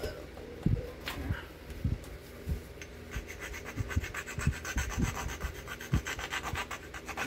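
The end of a primitive copper pressure-flaker tool is rubbed against a rough surface, making a series of close, rasping strokes in an uneven rhythm with short scraping bursts.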